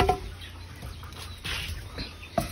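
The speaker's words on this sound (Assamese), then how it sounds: "আৰু এইবোৰ মোৰ একদম সম্পূৰ্ণ লোকেল মুৰ্গী।" Local farm chickens cluck in short, scattered calls over a steady background hum, with a couple of sharper clucks near the start and end.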